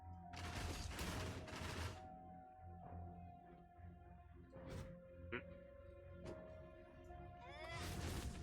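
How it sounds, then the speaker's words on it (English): Full barrage attack in the video game Stream Raiders, loud bursts of crackling impact noise with sharp hits and a tonal hum, the barrage returning near the end. "Full barrage."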